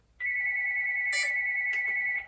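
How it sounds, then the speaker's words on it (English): A telephone rings indoors in a workshop with one steady electronic tone, close and fairly loud, holding for about two seconds without a break before cutting off. "There goes the phone again."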